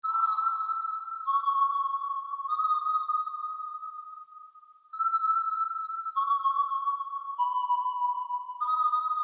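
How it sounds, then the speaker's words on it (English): A pure, smooth sine wave synth tone plays a slow melody of held notes with a gentle LFO vibrato, clean and alone. "It's just a simple sine wave with a little bit of LFO on the fine to give that vibrato effect."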